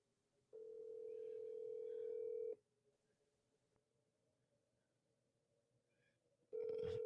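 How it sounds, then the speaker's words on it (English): An outgoing telephone call rings unanswered: a steady, loud ringback tone sounds for about two seconds, a quiet gap follows, then the tone starts again at the end. "So look, y'all see I called Cody 3 times, right? He didn't answer the phone"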